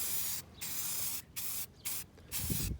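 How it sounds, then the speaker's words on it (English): Spray paint can misting a picture frame outdoors in the wind: five close hissing bursts separated by brief silent gaps, the last burst picking up some low rumble. "I sprayed it into the wind that way so that the wind helped me."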